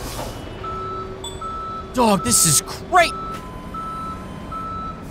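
A tow truck in Police Simulator gives off a steady series of evenly spaced reversing beeps that carry on throughout, while someone talks briefly over them.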